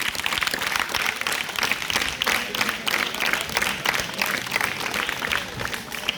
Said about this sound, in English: Have a round of applause for these two people.